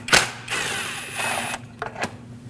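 A 12 mm intake manifold bolt is loosened on a Lexus IS250 with a ratchet, giving a sharp metallic click and then whirring, grinding spins in short bursts, close and alone.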